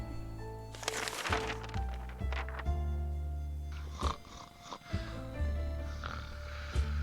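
A sleeping person snores in a video game: slow, deep, rasping snores come in a steady rhythm, snorting at times, fairly quiet and close, with no talk.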